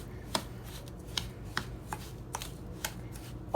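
A pumpkin pie cheesecake mixture being stirred in a bowl, with soft irregular scraping taps from the utensil against the bowl, close and fairly quiet, with no talk.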